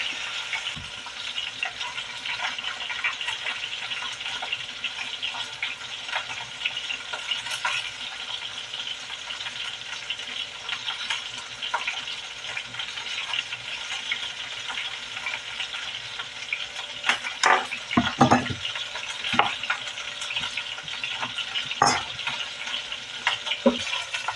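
Pot roast beef browns in a pot with a steady, moderate sizzle and crackle throughout, joined later by a few sharper clatters and bursts.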